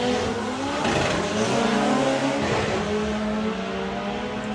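Two Volkswagen drag race cars launch together down the strip during qualifying, engines roaring and revving hard as they pull away, loud and sustained with rising tones and no voices over them.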